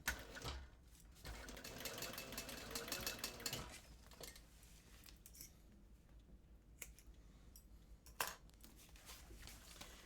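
A sewing machine stitches across a backpack being assembled, running in a steady whirring burst that stops, then resumes in shorter, quieter spurts with a sharp click near the end; no one speaks.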